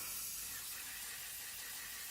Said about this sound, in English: we're going to start spraying a generous amount all over our wheel.